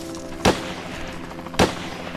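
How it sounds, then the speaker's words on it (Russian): Two sharp gunshots about a second apart, fired into a fallen pine in a forest, each a loud, short crack standing alone. "Два выстрела в лежащую сосну, над которой вертолет ненадолго завис."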